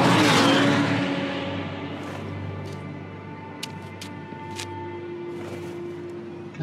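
A car engine revs in a Batman video game, loudest at the start, then settling into a steady, droning hum with a few faint, brief high clicks over it.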